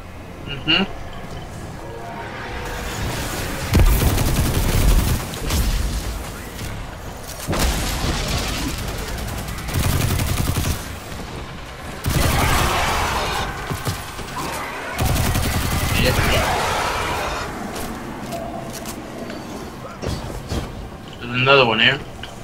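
Gunfire and grenade blasts in the PC shooter Destiny 2, with bursts of shots and booming explosions coming and going, under a player's talk.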